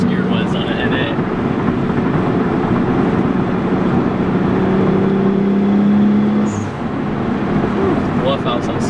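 A turbocharged Nissan 300ZX with a twin-turbo swap accelerates hard, its engine droning loud and steady as revs climb through the gears, with a brief dip near the end like a shift or blow-off release.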